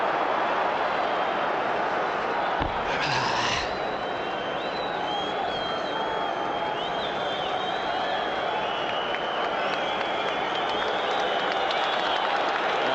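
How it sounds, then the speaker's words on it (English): A large crowd claps and murmurs steadily in a wide open stadium at a Newcastle United vs Liverpool football match, with a brief sharp thump early on and faint whistles drifting over the roar. "Applause is for Botman"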